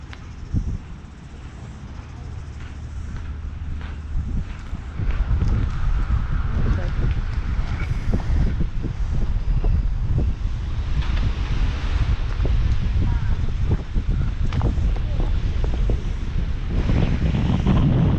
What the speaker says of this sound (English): Shame it's so windy today.